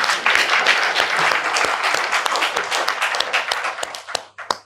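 An audience of Christians at a gathering in Ahmedabad claps for a politician's speech, a dense burst of many hands that stays loud and then breaks into scattered final claps.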